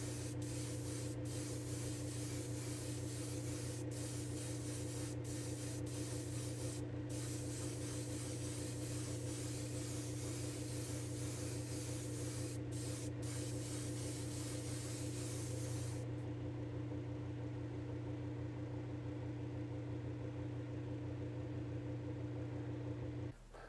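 Clear coat sprays from an aerosol can onto a Hot Wheels Chevy C-10 model car in a long, steady close hiss with a few brief breaks, cutting off near the end.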